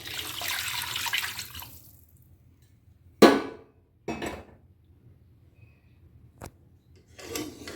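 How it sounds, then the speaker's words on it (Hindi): More water splashes into a pot of beef nihari, a short pour at the start, followed by scattered knocks and clatters of the pot and utensils with quiet gaps between them. "इसमें पानी और जाएगा, मैं इसमें पानी और ऐड करती हूँ।"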